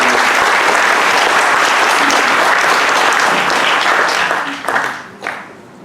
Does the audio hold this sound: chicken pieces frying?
no